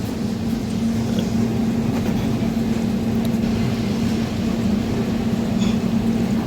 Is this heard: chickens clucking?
no